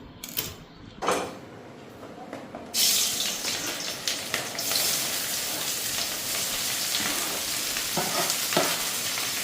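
Cabbage and onion hit a hot pan for chow mein: after a few clatters, a loud, dense sizzle bursts in and carries on steadily, with occasional stirring scrapes over the frying.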